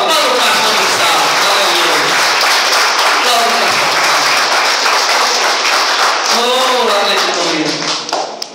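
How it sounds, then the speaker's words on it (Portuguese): Sustained, dense applause fills a church service as a congregation claps during a sermon, loud and continuous, with voices calling out over it. "Aplauda ao Senhor, aplauda o pastor do salmo."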